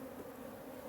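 African honey bees buzz around a hive during a post-winter inspection, a steady dense drone with no pauses, close and moderately loud, with no talking.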